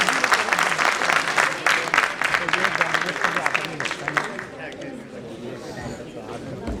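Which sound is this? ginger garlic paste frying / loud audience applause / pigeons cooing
loud audience applause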